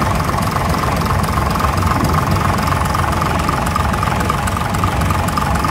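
A Leyland British United Traction high-speed diesel engine of about 10 or 11 litres, canted sideways under a railcar, idles steadily with a dense low rumble and a faint knocking beat, loud and close throughout.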